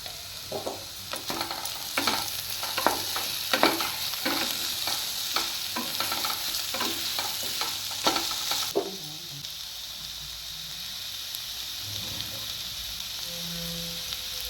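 Pasta stirred in a salted pan over heat: rhythmic scraping and bubbling strokes repeat steadily for several seconds, then give way to a quieter, steady simmer hiss.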